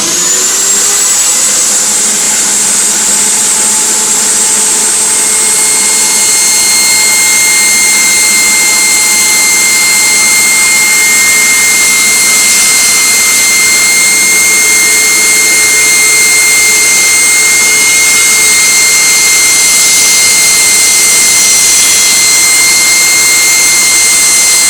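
Ryobi miter saw whining steadily at full speed while cutting a zero clearance insert, a loud, continuous high-pitched motor roar with tonal harmonics held unchanged for the whole stretch, no voices.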